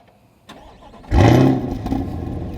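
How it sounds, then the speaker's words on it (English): A 2023 Chevrolet Corvette Stingray Convertible fires up by remote start heard close to its exhaust: a faint click, then a loud cranking bark that settles into a deep, burbling idle. "It has remote start. So let's go ahead and get near the exhaust so you guys can hear it."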